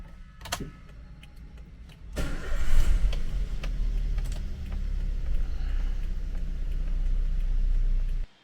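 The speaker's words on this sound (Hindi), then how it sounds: "सो गाड़ी अभी अनलॉक्ड है और मैं इसको स्टार्ट कर लेता हूँ जल्दी से" A Toyota Avanza 1.5 with manual transmission cranks and starts, settling into a steady, smooth idle after a few faint clicks, heard close and alone.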